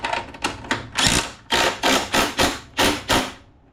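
A wrench ratchets on a bolt of a Toro 22-inch Recycler mower, model 20378, after it hit a stump. Close, sharp clicking strokes come in a steady series of about ten, with no talk.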